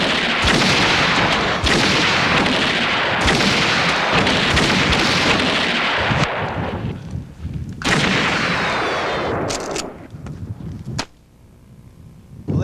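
Skeet shotgun blasts with smaller loads, a rapid series of loud sharp bangs close by, several in quick succession, then a pause and a few more shots.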